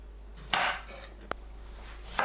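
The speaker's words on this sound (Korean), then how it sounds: "애호박은 양끝을 자릅니다" A knife cutting off both ends of a zucchini on a cutting board, three sharp separate chops in a quiet kitchen, the first and last fuller and the middle one a brief crisp tap.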